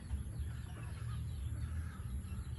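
A chicken on a farm clucks faintly in a soft, continuous stretch against low background noise, with no voices.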